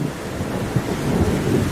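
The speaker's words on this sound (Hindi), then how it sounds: "तेज तूफान और बारिश की वजह से लाडो का आधा घोंसला टूट जाता है" Cartoon thunderstorm with heavy rain, a dense low rumble of thunder over a steady wash of downpour, continuous and fairly loud with no voices.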